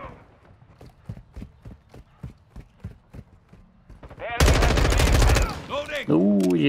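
Gunfire in a Call of Duty Modern Warfare 2 team deathmatch: a run of evenly spaced shots, then a loud burst of heavy firing and explosions, with a player talking at times.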